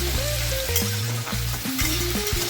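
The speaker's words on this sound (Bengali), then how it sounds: "আলুগুলোকে লাল লাল করে ভাজবো এবং ভালো করে ভেজে নিতে হবে" Potatoes frying in hot oil in a pan, a loud steady sizzle with stirring scrapes, heard close up with no talk.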